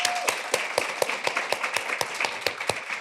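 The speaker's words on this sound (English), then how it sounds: "Give yourselves a round of applause." Rhythmic clapping at a property investment seminar in a City Lodge Hotel in Durban, KZN, heard as sharp, evenly spaced claps in a steady beat, like a small group or a single pair of hands, with no talk.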